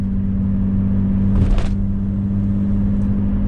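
A Volvo 960 with an automatic transmission running the wrong fluid and shifting hesitantly, giving a steady low droning hum with a brief breathy whoosh partway through.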